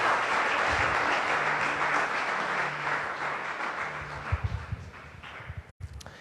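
A church congregation applauding, dense steady clapping that fills the space and gradually thins toward the end, with a few louder scattered claps before it stops.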